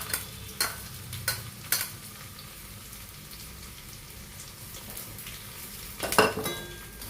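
Mustard seeds sputter in hot oil for tempering, with small shallots nearby, giving a low steady sizzle broken by a few sharp pops and clinks of a utensil against the pan, close and fairly quiet.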